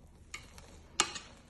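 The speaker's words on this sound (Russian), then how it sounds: "Перемешиваем." Spätzle with turkey meat is stirred in a pot, a soft scrape followed by a brighter, brief clink of the utensil against the pot, close and quiet.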